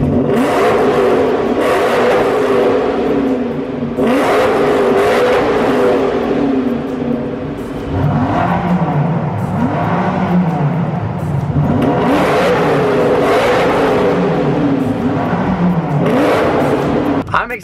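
A 2015 Lamborghini Huracan engine revs repeatedly, rising and falling in loud, close surges of roaring engine noise across the stretch, with short dips between blips.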